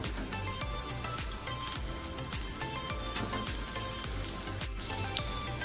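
Potato pieces frying in a pan with cumin powder, red chili and salt, a continuous close sizzle with faint clinks and stirring under it, no speech.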